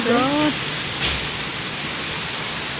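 Steady rain pours during a Kalbaishakhi storm, a dense, constant hiss filling the whole stretch, close and fairly loud, with a brief tonal sound at the very start.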